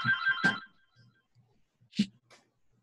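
A telephone rings in short electronic bursts, two rings separated by a quiet gap, fairly close and clear.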